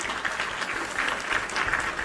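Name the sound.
applause for the children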